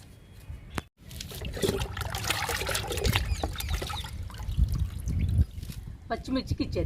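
Liquid fertilizer poured onto a potted fig plant, a steady gurgling pour that splashes and trickles for several seconds with a brief pause near the start, close and fairly loud, with a voice speaking over it.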